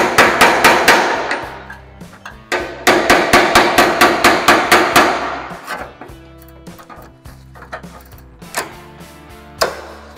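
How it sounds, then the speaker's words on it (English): Rapid metallic taps from a steel hammer on a sheet-metal dent, in quick sharp ringing bursts, then pausing before a few slower, scattered strikes. "I'm just gonna use this little end of the hammer up inside there to get real tight."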